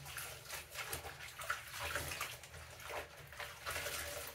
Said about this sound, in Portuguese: vamos ver, para lavar aqui as minhas pecinhas